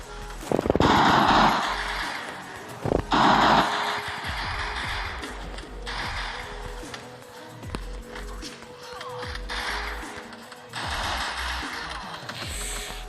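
Gunfire from the Free Fire battle-royale video game: bursts of rapid automatic shots and impacts crackle in loud clusters, under ongoing game sounds and footsteps.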